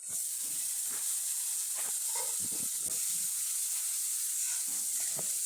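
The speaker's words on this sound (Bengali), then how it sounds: "পানি দিয়ে মশলাটা ভালো করে কষিয়ে নেব।" Spice paste sautéing with a little water in a pan for an egg dish, giving a steady close sizzling hiss with scattered soft stirring scrapes and pops, no talk.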